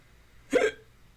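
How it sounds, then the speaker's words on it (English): A single sharp hiccup from a man, one brief close burst standing alone against near silence. "excuse my hiccups"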